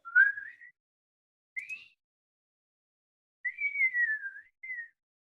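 A person whistles a short tune alone in a few separate phrases, clear and close, with two brief rising notes and then a longer wavering line and a final short note, silence in between.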